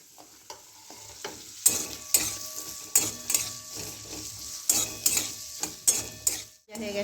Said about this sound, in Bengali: এবার দিয়ে দিচ্ছি, ভেজে নেবো লাল লাল করে।